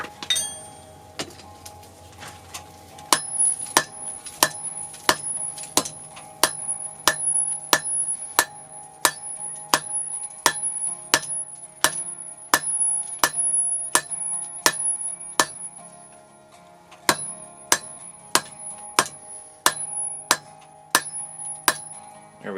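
Hammer blows on a forge-welded San Mai Damascus steel billet being drawn out near the handle, a long run of evenly spaced sharp ringing metallic strikes, close and loud, with a brief pause partway through.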